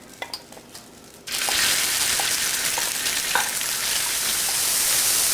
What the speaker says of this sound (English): We're going to cook the shrimp for 1 minute until the color of the shrimp turns pink.